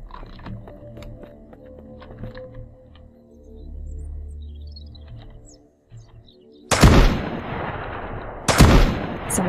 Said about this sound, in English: I don't know who's shooting.